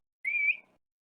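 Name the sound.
whistle imitated to get someone's attention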